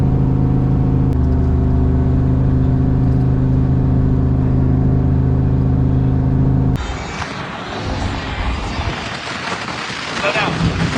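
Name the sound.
turbo 5.3 V8 car revving on two-step launch control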